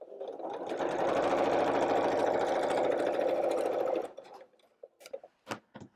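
Sewing machine stitching a fabric apron, running in one steady continuous burst for about four seconds, then stopping, followed by a few soft clicks and handling noises.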